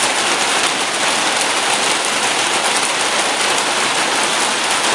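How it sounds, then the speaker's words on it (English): Steady rain falls on a surface on a rainy day, a dense, even hiss with no letup and no voices. "It's raining. It's a rainy day."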